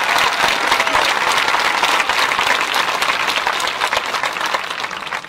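Sustained, loud audience applause at a 2018 graduation ceremony, steady and dense throughout with no talk over it.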